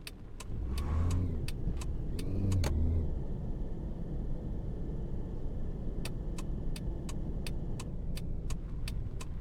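A taxi in the Taxi Life driving game cruises through a city at night, its steady engine and road hum continuous and moderately loud, with a few sharp ticking clicks repeating in short bursts and a brief swell of engine revving early on.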